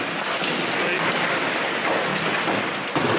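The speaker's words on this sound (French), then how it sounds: "Des grêlons si gros qu'ils ravagent les pare-brises." A violent hailstorm with thunder strikes Montluçon: a dense, steady roar of falling ice and rain sounds loud and continuous, with a low rumble underneath.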